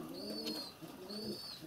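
A wild rock pigeon coos nearby in two soft, throaty phrases separated by a short pause, clear against a quiet outdoor background.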